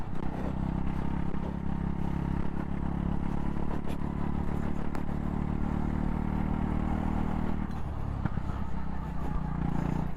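Go-kart engine drones loudly from onboard at a race track, revving and then easing as the throttle is lifted, with rattling clatter and wind noise throughout.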